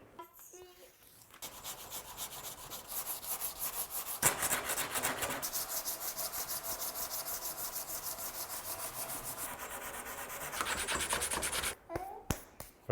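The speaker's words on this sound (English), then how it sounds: "Not the preferred sander, but it's working for now" A sander grinds over hardened fiberglass repair work on a Lexus LS400, a steady close abrasive rasp running for most of the span with brief pauses at the start and end.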